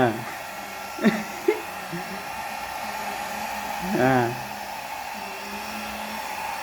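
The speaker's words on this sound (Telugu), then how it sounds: "Hair dryer. ట్రిమ్మర్ కాదు, హెయిర్ డ్రయర్." A handheld hair dryer blows with a steady, even whoosh throughout, played with by a small child, while voices briefly call out over it.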